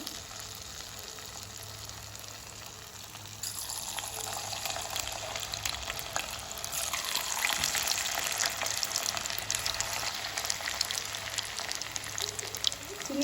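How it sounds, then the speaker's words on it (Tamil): Potato and onion pakoda batter dropped into hot oil, a steady broadband sizzle that swells partway through and keeps bubbling for the rest of the stretch, with no talking. "இப்போ எண்ணெய் கோச்சிட்டுது இப்போ வந்து நாங்கள் இதை இப்படி போட்டு எடுத்து பொறிச்சு கொள்ள போகிறோம்"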